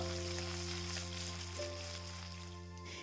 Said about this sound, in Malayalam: ഈ കടുക് പൊട്ടിയ എണ്ണയിലേക്ക് ഇട്ടിട്ട് ഒന്ന് ഇളക്കി കൊടുക്കും